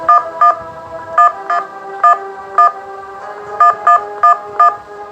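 Loud telephone dialing tones sound in quick irregular bursts, clusters of sharp beeps with short gaps between them, and no voices are heard.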